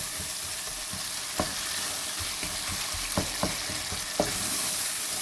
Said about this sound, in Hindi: देखिए बड़ी अच्छी तरह से भून रहे हैं सारे।